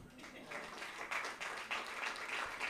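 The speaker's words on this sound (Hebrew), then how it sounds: "חבר'ה, כפיים למרים פרידמן" A crowd at an evening storytelling event breaks into applause, a warm, steady wash of clapping from many hands, moderately distant and sustained for a few seconds.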